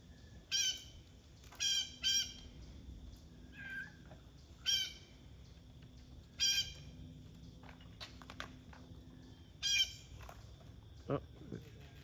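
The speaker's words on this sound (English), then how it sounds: "He's squawking." Outdoors, a bird gives a series of harsh, short squawks at irregular intervals, fairly faint against a quiet background, with a few softer rustles in between.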